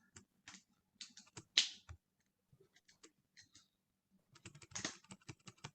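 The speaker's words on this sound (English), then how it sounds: "I am typing here." Laptop keyboard typing in bursts of quick, close clicks separated by short pauses, with a sharper clack or two, no voices.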